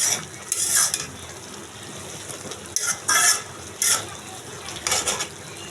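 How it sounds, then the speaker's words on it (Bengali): Water spinach curry with potatoes being stirred in an uncovered pan: a handful of brisk scraping strokes in quick bursts over a low simmering sizzle. "এখন একটু নাড়াচাড়া করি"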